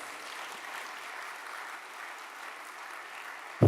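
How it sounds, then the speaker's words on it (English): Steady applause from a business conference crowd in Jamaica fills the space, an even wash of clapping that holds for several seconds before a sudden thump at the end. "Could we give the minister another round of applause?"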